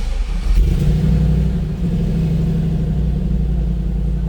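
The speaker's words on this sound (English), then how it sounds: "that was a cold start" A fuel-injected 1951 Chevrolet 3100 five-window street rod pickup starts from cold and settles into a loud, steady, rumbling idle close by.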